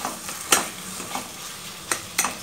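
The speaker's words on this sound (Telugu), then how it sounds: "లో ఫ్లేమ్లో పచ్చి వాసన పోయేంతవరకు వేయించుకోవాలి." Fresh seedless apricots frying over a low flame, a soft steady sizzle broken by a few sharp stirring scrapes, close up with no one speaking.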